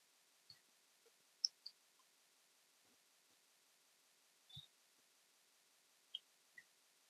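Sparse, faint computer mouse clicks sound in a quiet room, some single and some in quick pairs, spaced irregularly with long silences between them.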